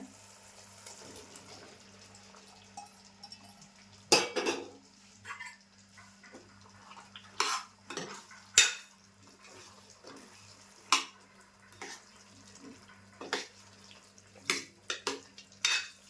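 Mixed vegetables go into a pan of cooked masala for veg kurma, bringing sporadic sharp clinks of a spoon against pots and utensils over a faint background hum.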